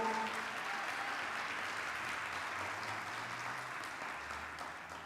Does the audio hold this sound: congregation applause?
yes